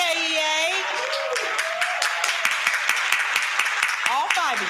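An audience at the NEA Representative Assembly cheers and claps, a steady crowd wash running under someone speaking from the stage.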